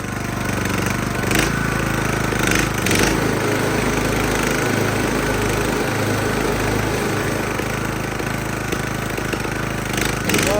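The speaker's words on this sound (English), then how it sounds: "we'll start it up, turn the blades on, see what happens" A Craftsman LT 2000 riding lawn mower runs with its blades engaged, giving a steady, loud engine drone with a rough vibrating rumble and a few brief rattling surges throughout, with no talk.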